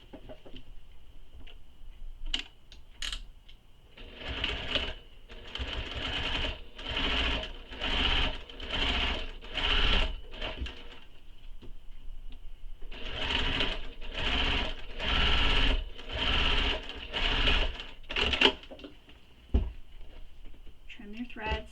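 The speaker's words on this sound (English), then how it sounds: "we're going to top stitch the seam allowance right here along the" Sewing machine top stitching a seam allowance along a handbag lining piece, running in repeated bursts of steady stitching with short pauses between, close and fairly loud, with some speech.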